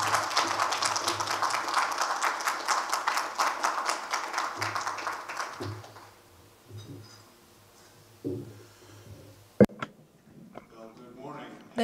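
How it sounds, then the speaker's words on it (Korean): Applause from a lecture audience greeting a visiting economics professor, dense clapping for about six seconds before fading into scattered claps, shuffling and quiet room noise. "큰 박수 부탁드립니다"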